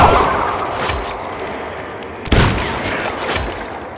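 Gunfire in the video game Dying Light 2, played on Xbox: a sharp loud shot stands out midway over a dense, noisy background of game ambience, with fainter booms before and after.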